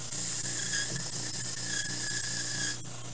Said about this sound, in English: if you got one of my handy dandy sanding machines, you can just flip the switch and do it like this